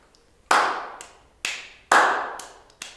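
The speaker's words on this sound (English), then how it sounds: "Clap along with me." Hands clapping in a classroom music lesson, sharp close claps in uneven groups with strong and lighter strikes and a short ringing decay after each, no voices.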